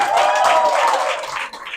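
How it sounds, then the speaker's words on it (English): Audience applause for a former assembly member at a Palm Springs political event, a dense wash of clapping that starts at full strength, then thins and softens toward the end. "Let's give Rich a round of applause."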